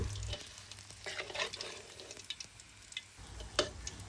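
Fish fries in hot oil with a quiet, uneven crackle and spitting pops close by, with a few sharp clicks and taps along the way.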